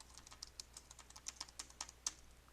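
A computer keyboard clicks under light, uneven typing while a Ctrl+C command is entered in a C# Interactive REPL, with about a dozen quiet, close keystrokes and no voices.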